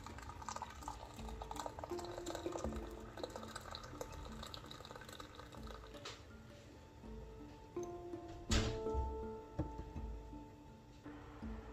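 A steady stream of hot water pouring into a container of okra, with a low gurgle and small clinks partway through, recorded close up.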